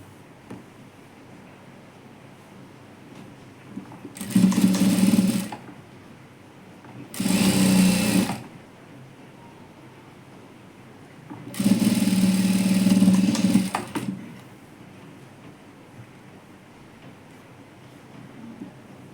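An electric sewing machine runs in three separate bursts of steady, fast stitching as a loop strip for a princess-cut blouse is sewn, with quiet pauses between runs.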